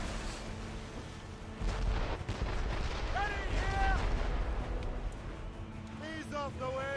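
Ship cannon fire in Assassin's Creed Rogue during a naval fight in the North Atlantic, heard as heavy booms and rumbling blasts mixed with game voices and the noise of wind and sea.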